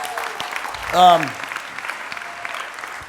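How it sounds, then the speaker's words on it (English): Audience applause at a Maui motivational event honoring the day's speakers, moderate clapping with a brief whistle or cheer in the middle and some crowd murmur. "Let's give it a round of applause to all the speakers"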